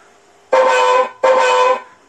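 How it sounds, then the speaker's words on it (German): Two honks of the horn on a KingKong RC ZIL 130 (555 MMZ) scale dump truck sound module, each about half a second long with a short gap between, loud and close with nothing else heard. "So, Hupe hat er natürlich auch."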